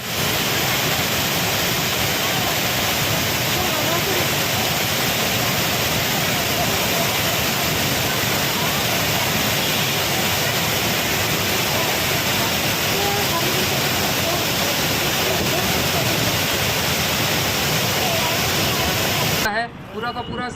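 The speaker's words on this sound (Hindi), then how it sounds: "एक झरना अलग ही रूप ले लेता है।" Water pours from Fateh Sagar lake in Udaipur as a waterfall, a steady, loud, unbroken rushing roar that holds without change for about twenty seconds before cutting off.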